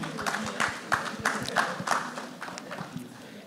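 Steady applause from a group at an awards ceremony, sharp uneven claps blending into a continuous patter, with some murmuring voices mixed in.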